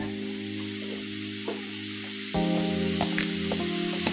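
Fresh river fish curry fries in a pan with a steady close sizzle over a constant low tonal hum, growing louder and fuller partway through with a few small pops and crackles.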